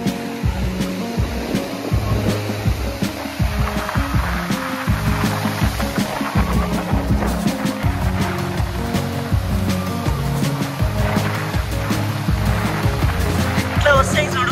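Sea waves on a Goa beach break and wash in as a steady, loud roar of surf, with a busy mix of nearby crowd noise and voices layered on top throughout.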